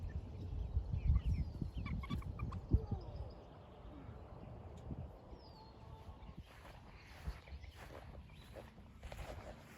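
Chickens in an alfalfa field make scattered clucks and calls, faint and somewhat distant, over low rumbling handling and wind noise that is loudest at the start and then settles to quieter outdoor ambience.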